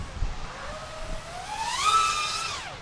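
An EMAX Babyhawk II analog FPV drone flying close outdoors in wind, its propeller whine rising sharply in pitch with throttle and then falling away, moderately loud against gusty low rumble.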